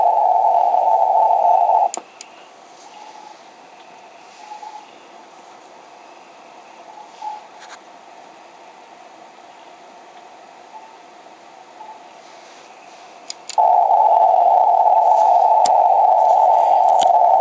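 A faint radio signal sits buried in a shortwave receiver's steady hiss, with occasional weak tones and clicks, framed by louder bursts of narrow-band filtered noise as DSP filtering is switched in and out.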